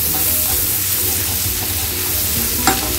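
Grated garlic hisses in melted butter in a pan, an even close sizzle with light stirring and a single sharp utensil tap near the end, with no talking.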